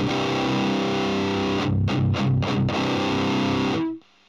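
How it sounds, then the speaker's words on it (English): Distorted electric guitar run through a PreSonus Ampire tube screamer amp simulation on the 15 watt setting, a sustained gritty chord with a few choppy stabs in the middle before ringing out and cutting to silence. "I've just got it on typical tube screamer settings, and I've got it on the 15 watt setting"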